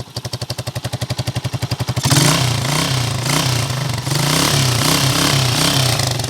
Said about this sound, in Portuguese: Esse é o barulho real da CG 99 carburada.